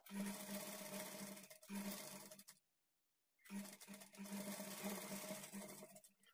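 A sewing machine stitches the shoulder seam joining the front and back of a high-neck blouse, running in two steady bursts, then a short silent pause before a longer run resumes.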